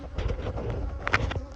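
Honey bees buzz at an open hive in a dense, steady drone close by, with a few sharper wingbeat swells as individual bees pass near.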